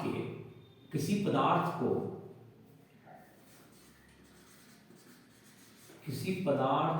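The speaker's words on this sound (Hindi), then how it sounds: "इसका परिभाषा लिख देते हैं" Chalk or marker scratches out a written definition on a board in a classroom lesson, quiet strokes running under a teacher talking, with a lull between the spoken parts.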